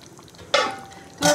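Meat being stirred while it fries in a pan during kosha cooking, two loud bursts of sizzling and scraping separated by a quieter stretch of faint frying.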